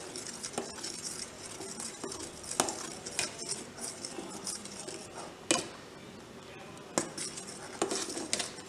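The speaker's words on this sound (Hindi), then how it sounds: "इसको हमने लगातार हाथ से हिलाना है।" Custard stirred continuously by hand in a pan for a fruit custard dessert, with a steady scraping swish and repeated clinks of the spoon against the pan, close and moderately loud with no talking.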